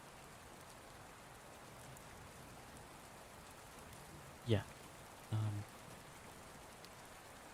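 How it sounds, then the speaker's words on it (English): Steady rain falls at night as a soft, even hiss through the whole stretch, with two brief louder bumps near the end. A voice murmurs a little over it. "I didn't really expect it to rain this late in the night."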